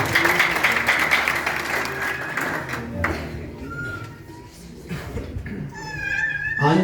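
A crowd at a wedding vow ceremony claps in a dense burst for the first few seconds. The clapping then thins out under high, wavering voices and cries.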